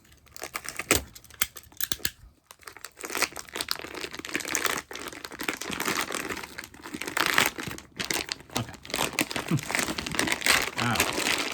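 A plastic packaging bag crinkles and rustles up close while a collectible is unboxed, with near-constant crackling and handling noise, a brief lull, then denser crumpling.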